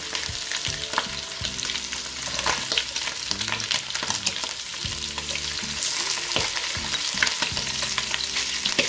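Rabbit pieces browning in butter in a pan for rabbit with mustard, a loud continuous sizzle and crackle with occasional scraping of tongs or utensils against the pan.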